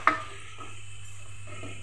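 A cooking utensil clinks once against a pot, then soft, slow scraping follows as ridge gourd and tomato curry is stirred. A steady low hum runs underneath.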